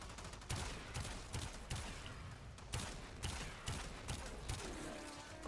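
The Sepulcrum weapon in Warframe fires in rapid repeated bursts, punchy blasts about every half second over a busy game background, quiet overall and without talk.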